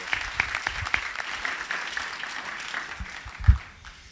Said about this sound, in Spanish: M'agradaria que feu un fort aplaudiment perquè ha vingut especialment per l'acte.